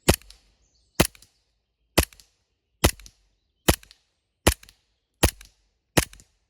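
A gas blowback airsoft pistol, a CM030 Glock-style sidearm, fired outdoors in rapid fire: eight sharp, loud cracks at an even pace of about one per second, each followed by a faint mechanical clack of the slide.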